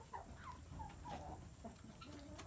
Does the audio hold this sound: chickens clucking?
yes